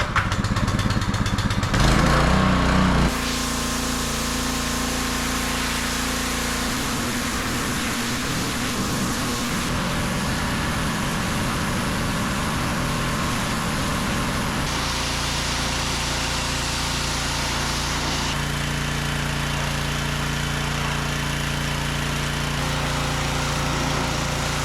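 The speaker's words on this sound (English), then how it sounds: "let's see what the pressure washer will do" A pressure washer sprays a 1989 Lamborghini Countach with a loud, continuous engine-driven drone and hiss that shifts in tone as the spray moves, with no talking.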